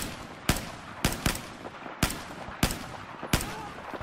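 Single loud gunshots from a weapon in Battlefield 4 on PS4, six sharp cracks spaced roughly half a second to a second apart, each with a short echoing tail over quiet background ambience.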